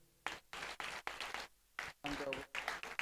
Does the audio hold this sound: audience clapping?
yes